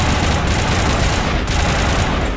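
Heavy, continuous automatic gunfire from Mass Effect, with a dense, loud fusillade of overlapping rifle bursts filling the whole moment without pause.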